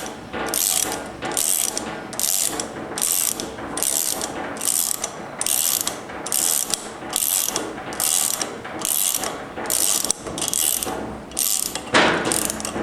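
Ratcheting of a wrench threading a repair insert into a damaged spark plug hole, about a dozen regular clicking bursts in a steady rhythm, close and clear with no talk.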